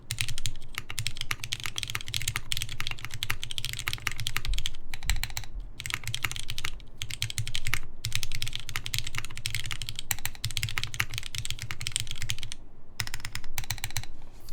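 Continuous fast typing on a custom mechanical keyboard, dense close-up key clacks with a few brief pauses, nothing else audible.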